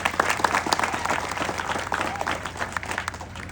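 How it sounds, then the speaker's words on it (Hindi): Steady, lively clapping from an audience at a community gathering runs through the whole moment, with some crowd murmur mixed in. "तो बजाओ इनके लिए ताली"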